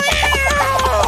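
A cat meows in a short, steady, fairly loud call with a tonal, harmonic quality, heard close by with no talking over it.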